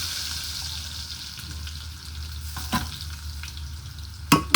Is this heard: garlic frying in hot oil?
yes